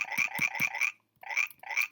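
Cartoon frog croaking sound effect in a Scratch project, a loud near series of four quick rhythmic croaks, a brief pause, then two more, with no talk.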